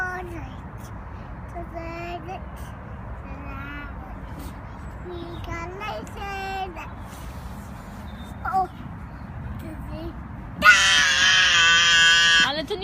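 A young child lets out several short, high cries and squeals indoors, then gives one long, loud scream at the end, over steady background noise.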